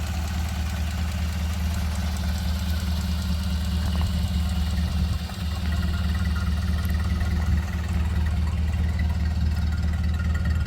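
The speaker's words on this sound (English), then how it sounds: "Now this is the Model B motor, 32 to 34." A Ford Model B four-cylinder engine fitted with a C head idles steadily inside a 1930 Model A Tudor sedan, a constant close low rumble with even mechanical knocking and no speech.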